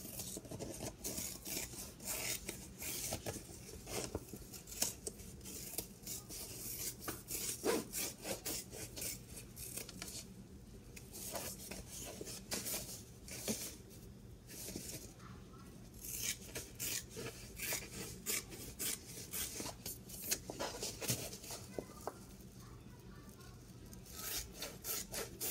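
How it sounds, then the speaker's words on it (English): Scissors trim fabric seam allowances on a handbag, making soft, repeated crisp snips and rubbing scrapes in an irregular rhythm, quiet and close with no talking. "We can trim our seam allowances."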